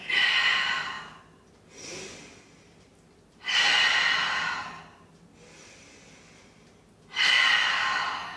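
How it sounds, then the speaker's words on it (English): Rapid, forceful breaths in and out during an energizing yoga exercise, arriving in loud rhythmic bursts a few seconds apart, each strong exhale followed by a softer inhale, close and clear with no talk. "breathing in and breathing out"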